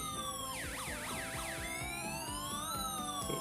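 A homemade five-tone electronic siren wails continuously, sweeping up and down in quick repeating whoops before settling into slower rising standby tones, loud and unbroken.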